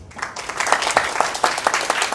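An audience claps steadily in warm applause, a moderate crowd close by keeping up an even patter of hand claps without voices.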